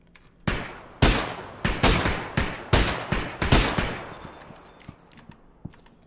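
Gunfire in PUBG rings out as a string of loud, sharp single shots at a steady, spaced rhythm, each with a short decaying tail, thinning to fainter distant pops toward the end.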